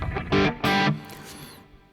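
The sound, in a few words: bottleneck slide played on distorted electric guitar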